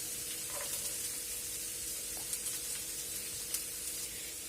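Chopped green chillies and onions frying in oil in a pan, a quiet, steady sizzle and hiss with a few faint clicks, heard alone without talking.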